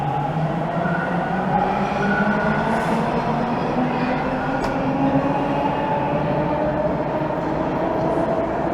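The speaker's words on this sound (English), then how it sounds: "So that's an eastbound train." An eastbound subway train runs steadily at Islington Station in Toronto, heard from the platform as a continuous rumble and rising motor whine with faint wheel clatter, moderately loud with no talking.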